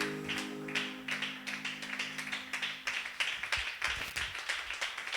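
A church congregation claps in rhythm to acclaim the Lord, a brisk steady pulse of many hands, fairly close, with a sustained tone underneath at first and no clear speech.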